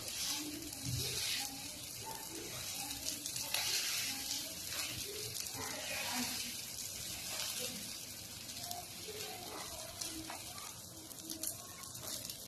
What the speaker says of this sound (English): you will bake your slice of bread at least for 2 to 3 minutes also